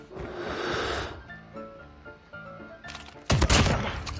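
Shotgun blasts in a video game, a burst of gunfire near the start followed by a sharp, loud shot near the end, with game sounds between.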